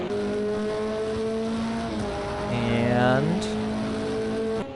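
LMP2 endurance race cars at Silverstone, during a World Endurance Championship event, drone past in a sustained engine whine that shifts pitch and swells briefly as they go by, heard under a commentator's voice.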